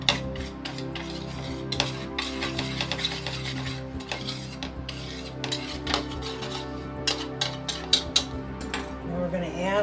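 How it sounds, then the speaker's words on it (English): A small whisk stirs soy milk yogurt in a bowl, giving a busy run of scraping, clinking strokes against the dish, close and steady over a faint background hum, with no talking. "We're going to take a small whisk and kind of mix that up."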